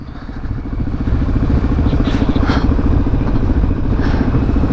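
A motorcycle engine runs loud and close at a drag race, with a steady throbbing exhaust pulse that holds at an even level throughout and no voices.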